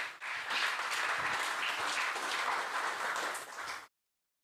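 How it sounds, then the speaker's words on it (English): A temple congregation at ISKCON Dallas breaks into a steady round of applause that holds evenly for nearly four seconds and then stops abruptly. Moderately distant and soft, with no voices on top. "We'll give him a big round of applause."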